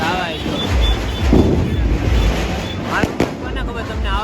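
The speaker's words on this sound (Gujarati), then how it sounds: "ફટાકડા ને આમ ગાવાય છે." Firecrackers crackle and pop during a Tulsi wedding celebration amid a busy crowd, loud bursts scattered over wind buffeting the microphone, with a few sharp cracks standing out near the end.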